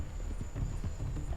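Horse hooves clop in Red Dead Redemption 2, a quick run of soft dull thuds close by over a low rumble.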